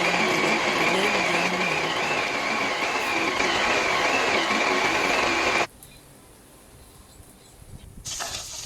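A blender blending boiled mung beans runs loudly with a steady whirring roar, then cuts off abruptly, leaving quiet room noise before a brief rustle.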